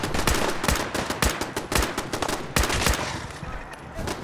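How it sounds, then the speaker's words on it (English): Rapid bursts of automatic gunfire in Fallout 4, a post-apocalyptic shooter, fired at super mutants. Sharp, loud shots come in quick irregular volleys throughout, close and dense. "What's it shooting at?"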